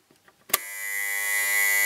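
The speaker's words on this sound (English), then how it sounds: "There you have the alarm." A German flip alarm clock, once sold by mail order, clicks faintly a few times before its alarm starts with a sharp snap, then buzzes as a loud, steady, continuous electric tone close by.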